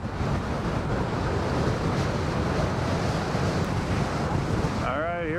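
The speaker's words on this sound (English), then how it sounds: "now the wind can smack me from the right instead of the left" Strong wind buffeting the microphone at Fort Myers Beach, a loud, constant rushing roar that masks the surf beneath it and drops away abruptly near the end.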